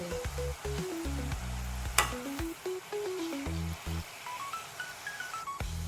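Murukku fries in hot oil with a steady bubbling sizzle. Melodic music plays over it throughout.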